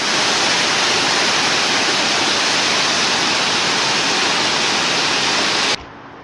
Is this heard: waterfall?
yes